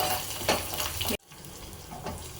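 Fenugreek leaves and tomato sizzle in a hot pan while being stirred, a steady frying hiss with faint scraping, broken by a short pause before the quieter sizzling resumes.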